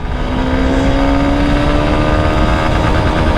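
A Honda XBlade FI ABS motorcycle engine pulls steadily and loudly through first, second and third gear, its tone climbing in a continuous drone with no voices over it.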